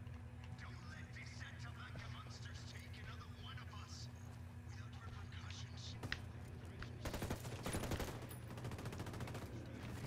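Gunfire rattles in Ghost Recon Wildlands, with rapid bursts of shots over steady background game noise and voices talking throughout; the fire grows denser and louder toward the end.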